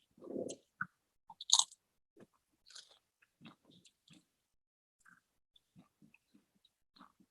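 Close, crisp crunching from chewing fried grasshopper chips, with a run of irregular bites and chews that start louder and then fade into sparse, quiet crunches, with no talking.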